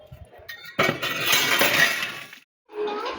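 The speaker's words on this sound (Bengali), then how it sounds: "আর এখন বাসন টাসনগুলো ঝটপট করে ধুয়ে" Dishes clink and clatter in a sink while being washed, a dense run of ceramic and metal knocks over running water that stops briefly and resumes.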